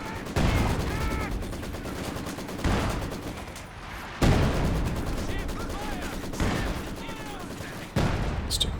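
Artillery barrage and gunfire rumble through a Company of Heroes 2 battle, a dense, continuous wash of explosions and shots with heavier impacts recurring every couple of seconds throughout.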